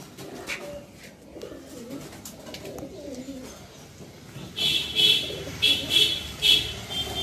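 A pure Madrasi pigeon gives a run of soft, repeated coos close by, each a short burst following the last, over faint background noise and with no talking.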